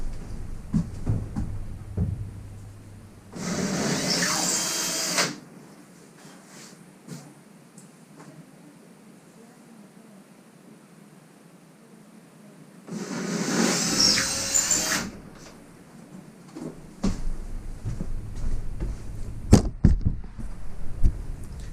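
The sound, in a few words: power drill drilling in drywall anchors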